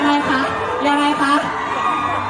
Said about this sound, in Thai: ข้างหลังคือกรี๊ดเลย